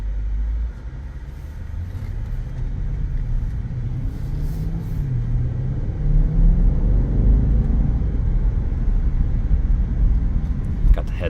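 A 2022 BMW 750i xDrive on a test drive gives a steady, low cabin rumble of engine and road noise that swells slightly as it goes, with someone talking over it.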